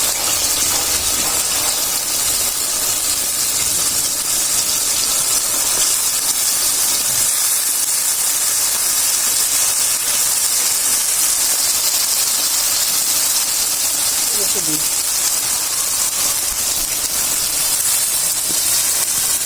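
Pieces of vegetarian mock fish dropped into a pan of cooked-down spice paste sizzle with a loud, steady hiss that carries on unbroken, with no talk.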